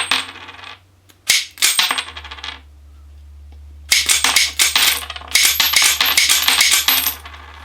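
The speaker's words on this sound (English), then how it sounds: "it spits out one coin." A 1950s–60s arcade machine's Pekka coin payout solenoid fires, dispensing coins one at a time from a full tube. Bursts of metallic clatter and jingling coins tumble loudly and close, separated by a low mechanical hum and short pauses.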